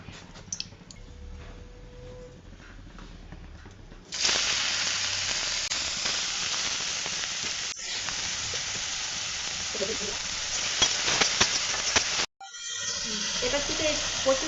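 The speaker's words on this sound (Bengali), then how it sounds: "এবারে মাশরুমটা ভেজে নেব। এই তেল দিয়ে দিলাম।" Mushrooms sizzle and spit in hot oil in a pan, loud and steady for most of the clip, with a brief stir and a short pause near the end before the frying resumes.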